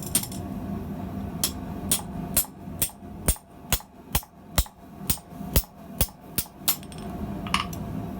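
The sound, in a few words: hammering a pin through with a bolster pipe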